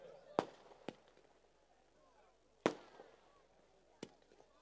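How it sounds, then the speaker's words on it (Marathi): Firecrackers and fireworks go off at a rural premier league cricket tournament: four sharp, loud bangs at uneven intervals, two of them bigger blasts with a short rumbling tail, over faint crowd murmur. "फटाक्यांच्या आतषबाजीमध्ये या ठिकाणी"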